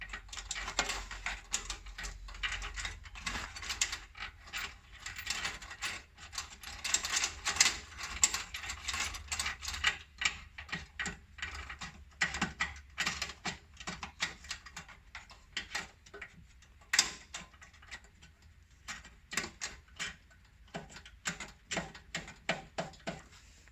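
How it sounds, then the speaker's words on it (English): Ratcheting tool driving fender liner screws into nuts on a 2018-up Jeep Wrangler JL, a long run of rapid clicking ticks in uneven bursts, close and fairly quiet. "place a nut directly in the hole, and then basically just screw right into it."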